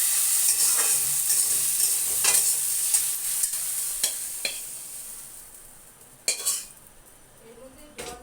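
Water lily stems frying in a pan, with steady sizzling broken by repeated close scraping and clinking of a utensil against the pan as the stems are stirred.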